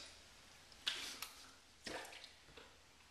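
A Parker 22R safety razor rinsed with water between shaving passes: a couple of brief, soft splashing and dripping bursts, close and quiet, with no talk.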